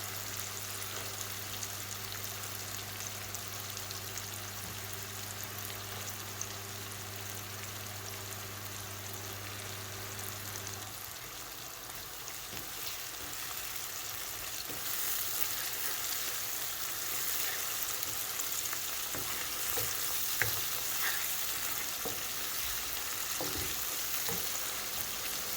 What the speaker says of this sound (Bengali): এখন আমি মশলাটা আস্তে আস্তে ভাজিয়ে নেব।